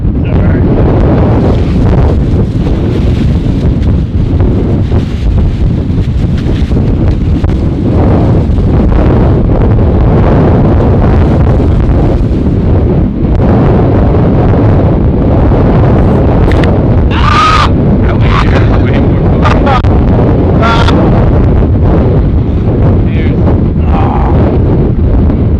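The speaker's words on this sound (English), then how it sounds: "it's really freaking windy out here" Strong wind roars over a mountain ridge on the Breakneck Ridge hike in New York and buffets the microphone hard. The low rumble is loud and continuous, with gusty bursts near the end.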